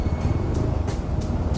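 Road traffic at a roundabout in Rizal, Philippines, forms a dense, continuous rumble. Vehicles pass close by in repeated whooshes every few tenths of a second.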